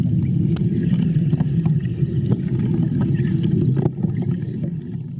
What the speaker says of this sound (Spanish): Lo que suena es la combustión del oxígeno con la electricidad bajo el agua.